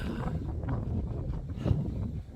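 Strong wind blows outdoors on a mountain, buffeting the microphone in a rough, fluctuating roar that swells and eases, close and loud with no voices.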